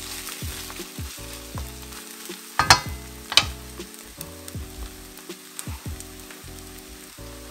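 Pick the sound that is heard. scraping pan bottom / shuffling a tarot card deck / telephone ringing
scraping pan bottom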